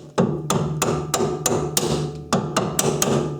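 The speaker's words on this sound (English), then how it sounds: "then grab a rubber mallet" A rubber mallet strikes a fastener on a car's sway bar link, about ten sharp, evenly spaced knocks at close range, loud and without talk.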